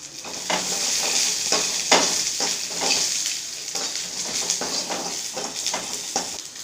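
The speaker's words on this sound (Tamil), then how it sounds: "புளியும் போட்டு வதக்கிறேன்" Ingredients with tamarind being sautéed for thuvaiyal, a steady close sizzle broken by repeated scraping stirs of a spoon against the pan, with no talking.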